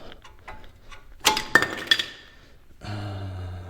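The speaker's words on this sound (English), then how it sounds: "I'm just using a screwdriver, flathead, push these out" Metal screwdriver work on the brake caliper of a 2012-2016 Honda CR-V, with a flathead prying out the brake pad clips: three sharp metallic clinks and ticks close by, followed by a steady mechanical hum.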